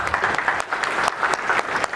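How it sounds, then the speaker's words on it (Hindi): An audience applauds the actors after a stage play, Rani Durgavati, with brisk, dense clapping that is close and fairly loud and runs throughout the short stretch. "बड़ी तालियां उनके लिए हो जाए।"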